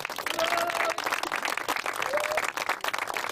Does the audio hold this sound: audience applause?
yes